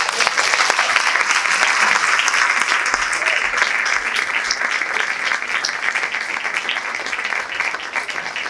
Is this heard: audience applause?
yes